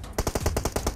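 Rapid automatic gunfire from PUBG Mobile, a loud burst of about nine evenly spaced shots in quick succession following a short quiet lead-in.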